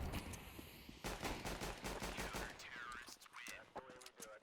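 Rapid bursts of automatic gunfire rattle in quick succession, followed by lighter metallic clicks and chirpy game sound effects, in the video game CS2.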